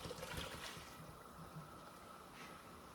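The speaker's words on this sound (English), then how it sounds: "So we're gonna put this water in here and get some more of that tomato flavor out." Water poured into a simmering pot of homemade tomato Bolognese sauce, a soft continuous splashing and gushing pour, faint and steady throughout with no talk.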